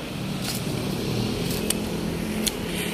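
Cars pass on a road below a hillside shrine, a steady distant traffic rumble with a few faint clicks and knocks, and no one speaking.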